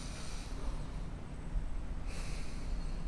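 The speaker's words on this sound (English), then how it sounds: "Try breathing now." A person breathes hard through the nose, with loud close sniffing airflow and a sharp snort-like rush partway through, heard alone without talk.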